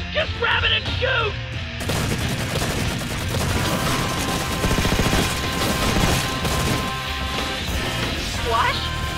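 Gunfire in a Red vs Blue scene from the Halo video game, a loud, dense barrage of rapid shots and crashing impacts that runs almost continuously, with brief voices at the start and end.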